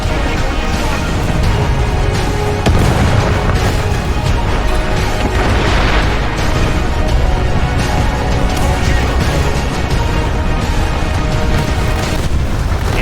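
Anti-tank missile explosions in War Thunder, a WW2 tank battle game: dense, continuous booming and crashing blasts with rumbling low end, loud and steady throughout, layered chaotic impacts with no talk.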